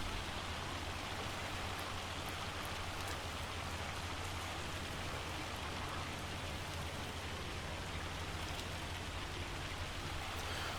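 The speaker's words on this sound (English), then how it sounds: "Hopefully this hail doesn't kill too much of our other crops." Hailstorm in the farming video game Farming Simulator 25, a dense, steady hiss of ice and rain pelting surfaces, constant and even throughout with no talking.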